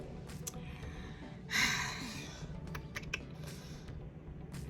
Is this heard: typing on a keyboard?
yes